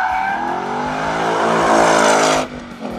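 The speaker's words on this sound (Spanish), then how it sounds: "el derrapar con este Mustang es un reto alucinante" A 2022 Ford Mustang Mach-E drifts on a race circuit, giving a loud, close, continuous rising whine with tire noise that drops off abruptly near the end.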